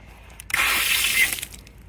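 Water gushes from an outdoor spigot at a trailhead parking area, a brief steady splashing rush that starts abruptly and fades after about a second.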